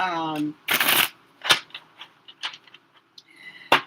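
Tarot cards are shuffled in quick riffling bursts and taps, close and crisp, after a brief stretch of voice at the start.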